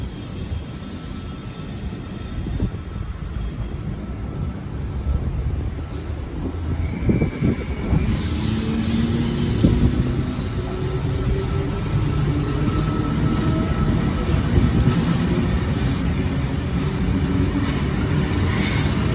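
A train rolls through Strathfield station in Sydney, a steady rumbling wash of wheels and carriages building slightly louder in the second half, with no voices over it.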